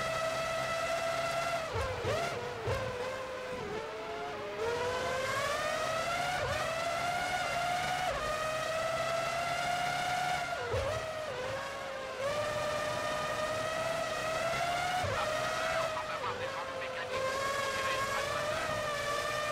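Formula One race cars in the Formula One 03 PS2 game at the A1-Ring: a loud, continuous high engine whine that climbs and drops sharply with each gear change over nearly twenty seconds, with brief skid-like bursts and no speech.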